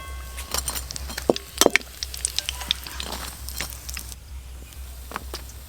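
Chicken pakora and cutlets frying in hot oil, a steady low sizzle broken by brief sharper crackles and pops, close and moderately quiet with no talking.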